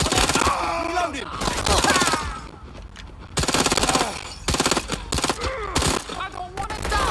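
Rapid automatic gunfire in the video game Watch Dogs Legion, loud and close, coming in dense bursts separated by short pauses, with shouting voices mixed in between the volleys.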